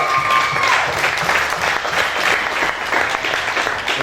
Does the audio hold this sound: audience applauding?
yes